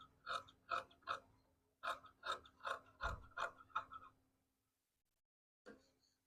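Scissors trimming extra saree fabric close to a seam, about ten crisp, evenly spaced snips in quick rhythm, then a pause and one last cut.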